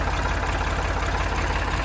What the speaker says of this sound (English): So I'll get on my tractor here,